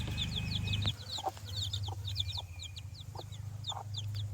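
A mother hen clucks softly and repeatedly to her newly hatched chicks, whose high peeping chirps run constantly over a low hum.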